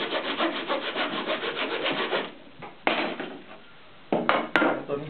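Hand saw cutting wood against the stop of a sawing jig, a rapid run of rhythmic rasping back-and-forth strokes for about two seconds, then a pause and a few more short strokes near the end, close and clear.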